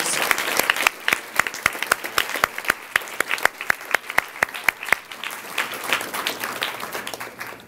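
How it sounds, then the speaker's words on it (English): An audience at a student award ceremony claps in a sustained round of applause, with sharp individual claps standing out near the front before the clapping fades. "can we please give a round of applause to your families for supporting you all of these years?"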